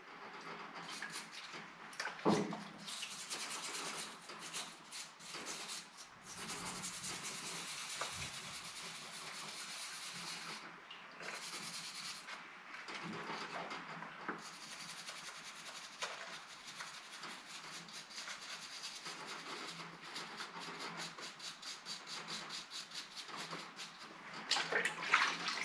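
Scrubbing a 1948 Harley-Davidson WL Flathead 45 engine clean, a hissy, watery brushing texture with irregular strokes and brief pauses, fairly quiet and close.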